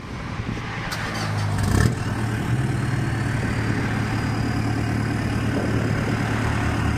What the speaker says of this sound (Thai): เอาสตาร์ทรถเลย